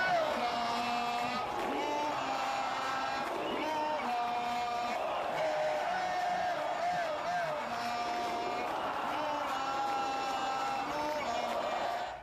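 A large crowd at a street rally on Avenida Paulista greets former president Lula arriving on a sound truck, with sustained cheering, whoops and chanting voices in a continuous roar.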